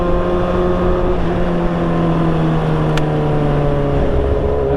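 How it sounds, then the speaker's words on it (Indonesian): A motorcycle ridden through town streets in the late afternoon gives a loud, steady engine drone with constant rushing wind noise throughout, no talking. "Riding motor kota-kota ya, sore-sore."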